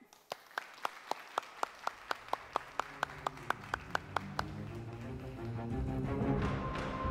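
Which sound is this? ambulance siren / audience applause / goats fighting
audience applause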